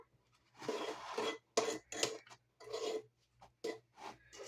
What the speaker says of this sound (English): Scrape my sides before adding the first round of eggs.